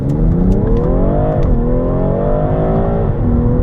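A 2020 BMW M340i xDrive launches hard under launch control. The engine roars loud and close, its pitch climbing steadily, dropping sharply at a gear shift near the middle, then climbing again to a second shift, with no talking.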